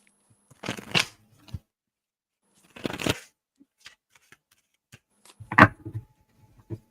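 Tarot cards being shuffled by hand in three separate bursts of riffling and slapping, close and fairly quiet, with short pauses and a few soft taps between.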